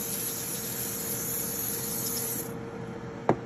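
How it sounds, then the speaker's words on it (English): Steady hiss of coconut oil spray over foraged chicken of the woods mushrooms for the air fryer, running continuously before cutting off, followed by a brief click. "I'm going to go ahead and spray that all down with coconut oil."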